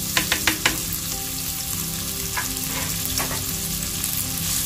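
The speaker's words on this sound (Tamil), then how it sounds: "இதில் வந்து நம்ம அரைஞ்சி வச்சுருக்க வெங்காயத்தை ஆட் பண்ணிக்கலாம்." Ground onion goes into hot oil and fries with a loud, continuous sizzle, opening with several sharp spits and crackles as it hits the pan, then settling into a steady hiss with occasional stirring.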